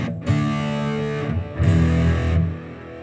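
An electric guitar plays through a Mosky Black RAT distortion pedal with the treble cut: two thick, buzzing chords, each sustained loudly and ringing out, with no talking.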